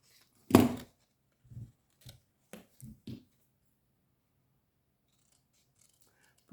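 Scissors cutting paper at a bevel for an advent calendar craft, one sharp close snip followed by several quieter short cuts in an otherwise quiet room.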